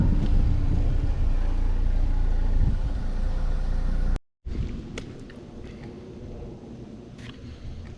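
A 2011 Saab 9-5 engine idles with a steady, close rumble, then cuts out briefly before a quieter running drone resumes with faint clicks and rattles.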